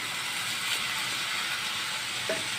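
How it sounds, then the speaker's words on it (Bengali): Sliced bitter gourd goes into a pan of frying rohu fish roe, and a loud, steady hiss of hot oil fills the whole stretch close up, with no talk. "সঙ্গে দিয়ে দেবো আমি এই যে কেটে রাখা করলাগুলো"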